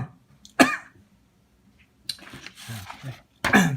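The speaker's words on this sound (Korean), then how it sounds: "자꾸 기침이 나와서 좀 미안합니다" A lecturer coughs during a class, a few sharp separate coughs and throat sounds spaced out with quiet gaps between them, close and fairly loud.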